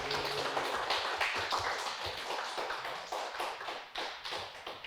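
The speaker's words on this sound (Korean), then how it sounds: "우리 축하의 박수 한번 올려드릴까요" A church congregation claps together after a Sunday sermon, a fairly quiet patter of many hands with some slightly rhythmic bursts, continuing throughout with no talk.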